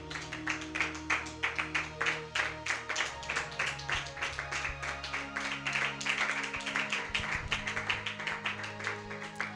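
A church congregation at a repentance service claps rhythmically in time over loud worship music, with steady even beats running through the whole stretch and the music's sustained tones underneath.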